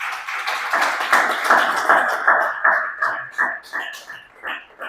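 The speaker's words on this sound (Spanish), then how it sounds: "Denle un aplauso al Señor," A church congregation claps together, strong at first and then breaking into rhythmic, gradually thinning beats.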